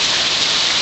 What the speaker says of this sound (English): rainstorm,